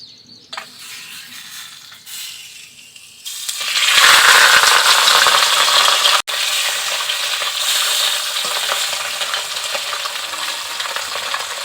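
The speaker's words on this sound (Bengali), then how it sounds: "মাছটাকে একটু লাল করে ভেজে নেব।" Rohu fish belly pieces dropped into hot white oil in a wok and frying; a quiet start, then a loud, steady sizzle that jumps up and holds for the rest, with a brief break midway.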